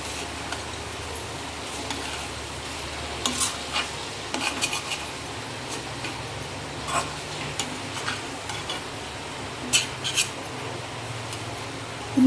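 Crab sticks sizzling and frying in a pan, with a steady hiss and scattered light clicks and scrapes of a utensil as the pieces are turned, close and moderately loud with no talking.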